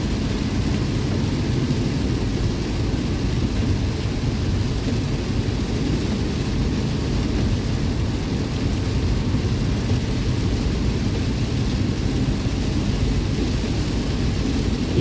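Steady rain drums on a car windshield while driving, a dense continuous rumbling wash with heavy low-end road and engine noise, loud and unbroken with no talking.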